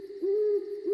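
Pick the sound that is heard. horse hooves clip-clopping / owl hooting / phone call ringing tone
owl hooting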